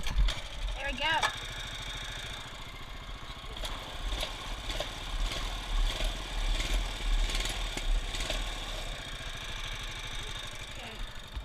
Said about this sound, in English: Engine will warm up.